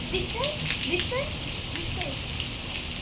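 Heavy rain falling in Mysuru makes a dense, continuous hiss and patter that stays close and steady throughout, with a few faint, higher chirping sounds scattered above it.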